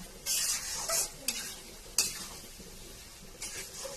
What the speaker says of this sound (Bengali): এরপরে আবার একটু ঢাকনা তুলে নেড়ে নিচ্ছি।